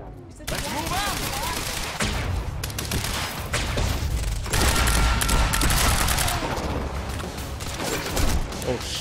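Sustained, heavy gunfire from the video game Quantum Break, with rapid overlapping shots and automatic bursts filling the scene throughout, loud and continuous, while voices speak over the shooting.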